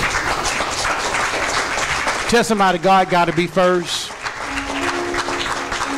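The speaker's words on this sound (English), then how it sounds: "Give God a thunderous round of applause." A church congregation gives a loud round of applause while a preacher keeps speaking and shouting over it, the clapping a dense steady wash beneath his voice.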